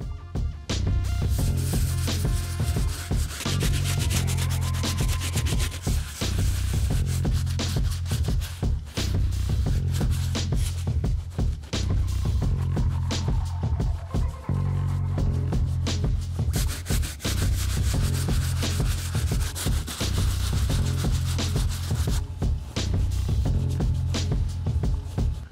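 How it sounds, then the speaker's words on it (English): A soft bristle brush wipes down the patent leather and white mesh of an Air Jordan 11 sneaker, a steady close scrubbing and rubbing in continuous repeated strokes. "So we're gonna go in and give everything a nice wipe down."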